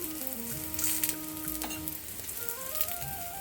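Puran poli fries in a little oil on a pan, giving a steady close sizzle with soft crackles while a melodic tune plays over it, no speech.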